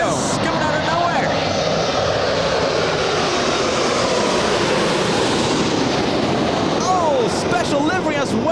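A KLM airliner in special livery arrives at LAX and passes overhead with a loud, sustained roaring jet rush that fills the whole stretch, while excited spectators talk over it.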